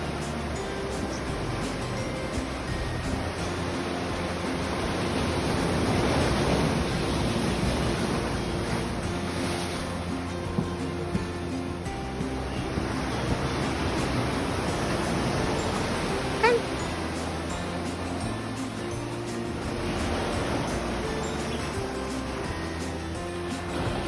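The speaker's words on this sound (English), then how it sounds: "Amazing waves, the beach is kind of roaring." Ocean surf on a Seychelles beach roars continuously, broad rushing swells rising and easing as waves break, with some wind buffeting the microphone and no talk.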